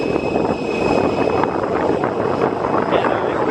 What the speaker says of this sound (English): EasyJet Airbus A320neo. Nice. Nice flare there too.